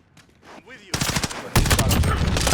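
Shotgun blasts from Call of Duty: Modern Warfare (2019) burst in loud and close, with quieter clatter before them and a dense run of gunfire at the end.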